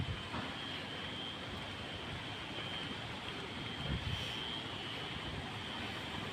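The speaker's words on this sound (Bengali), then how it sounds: "প্রচণ্ড বৃষ্টি আর বাতাস।" Heavy storm rain and gusting wind in Pirganj during a violent Kalbaishakhi-like squall give a steady, dense roar with no pauses, moderately loud and unbroken throughout.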